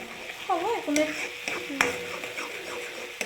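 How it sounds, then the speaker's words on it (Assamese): Curry being stirred in a pot, a few scraping strokes and utensil knocks over a low sizzle, close and moderately quiet, with a voice speaking briefly at the start. "এতিয়া অকণমান লৰাই দিছোঁ"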